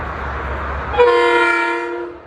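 A train horn sounds loudly and steadily for about a second as a train passes through Larchmont station on the New Haven Line, over a low rumble of the train that drops away while the horn holds.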